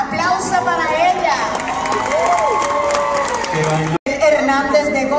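Audience cheering and applauding at a children's salsa dance competition in Goya, a loud crowd roar with shouts and a voice over a PA, cut by a brief dropout near the end.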